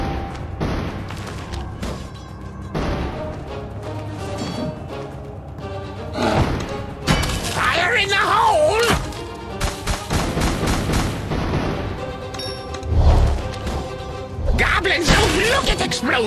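Explosions and gunfire-like booms burst repeatedly amid busy game effects and voiced lines such as bomb-planted calls in Kingdom Rush Vengeance, loud and chaotic throughout.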